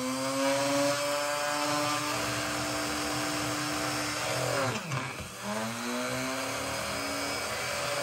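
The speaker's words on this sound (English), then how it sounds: "Okay, so I'm gonna drill a few holes" A power drill boring holes through leather for a knife sheath, with a steady high whine that sags as the bit bites in and then recovers, close and continuous with no talk.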